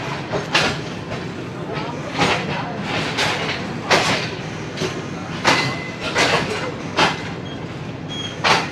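Shalimar Express train departing a station in Pakistan, steady rolling rumble with periodic clacking wheel beats on rail joints, heard from inside a carriage, with a person talking over it.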